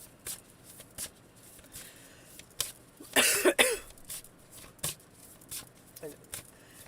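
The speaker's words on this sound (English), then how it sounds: "Is what the cards are saying as I'm shuffling." Tarot cards are shuffled in a few quick, close riffling bursts, with a cough and scattered soft taps and clicks around them.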